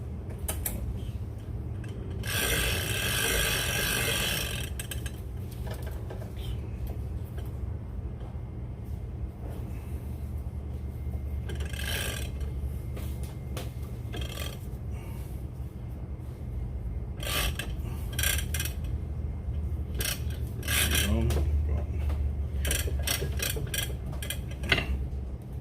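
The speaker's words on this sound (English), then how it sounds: "that's me testing the braid right there to make sure it ain't slipping on the spool" Everol 20/0 big-game fishing reel spooled with 200lb hollow core braid, giving steady mechanical creaking and ticking from the reel with intermittent louder bursts of winding and clicking, close and continuous.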